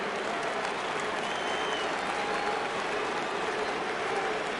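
Baseball stadium crowd at a Rays vs Yankees game rising and cheering on a full 3-2 count in the 8th inning, a steady, dense roar filling the whole stretch without letup.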